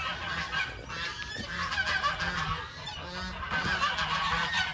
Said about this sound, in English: our ducks and geese do come in here to fight